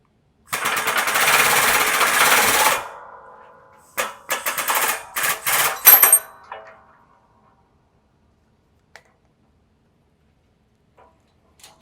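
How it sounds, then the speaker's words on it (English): Corvette wheel stud pressed out of a hub with a press: a loud grinding buzz for about two seconds, then a cluster of sharp clacks and rattles, followed by near silence with a few faint ticks. "I'll press it out, and then I just spin it and turn on to the next one."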